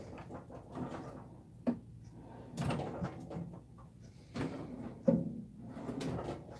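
A toolbox drawer is opened while someone searches through it, giving several soft sliding rumbles and sharper knocks and clunks of contents shifting, close and fairly quiet.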